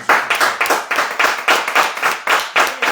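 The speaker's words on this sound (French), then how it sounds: "Voilà pourquoi je veux qu'on acclame pour le Seigneur Jésus" A church congregation claps in a steady rhythm, roughly three to four sharp claps per second, loud and close with no talk over it.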